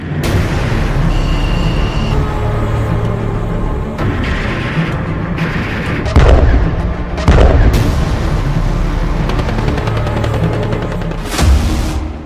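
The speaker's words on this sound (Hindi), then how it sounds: "जरा देखिए यूक्रेन के ड्रोन, तोप के गोले और फाइटर जेट के हवाई हमलों से कैसे रूसी सेना तबाह हो रही है" Artillery shelling and air strike explosions from Russia-Ukraine war footage: loud booms and heavy blasts hit at irregular intervals over a rumbling battlefield din, with bursts of gunfire crackling in between.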